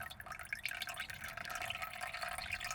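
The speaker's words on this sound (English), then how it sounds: "you can still see there's water flowing in" Water from a roof leak flows and drips inside in a faint, continuous trickle with scattered small drip taps, no voices present.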